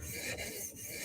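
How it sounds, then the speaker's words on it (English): Blade rubbed across a 400 grit sharpening stone, a steady close rasping scrape with faint strokes, quiet and without speech. "Looking a lot better now after the 400 grit stone"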